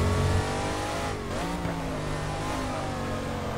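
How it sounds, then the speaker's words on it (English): De Tomaso Pantera engine in the GT Legends racing game, revving hard and high right after a downshift into first, a steady loud harmonic howl with pitch swooping and climbing over a few seconds. "I downshifted to first and we were going on high revs"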